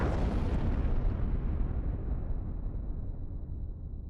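A bomb explosion's deep, heavy rumble fills the air at full strength, then slowly decays into a long low roll as the blast fades.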